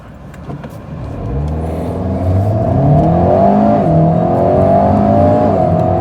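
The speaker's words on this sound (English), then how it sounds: "We are going to try and do a acceleration from a standstill." An Alpine A110 sports car engine revs up hard from a standstill, its pitch climbing through several gear changes, loud and close, with no talking.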